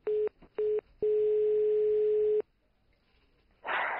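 A telephone tone sounds after a caller hangs up: two short beeps, then one long continuous tone, followed by a brief silence and a burst of hiss.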